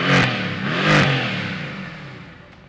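A Mercedes-AMG GT S engine roars in Sport Plus mode with the exhaust opened up, two sharp revving surges in quick succession before the note falls away, close and loud with no talk.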